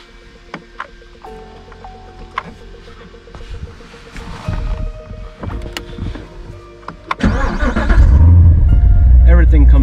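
A red supercar with a 7-speed manual transmission parked in a hangar: clicks and electronic whirs as the system comes alive, then the engine cranks and fires into a loud, deep, steady running roar for the final seconds.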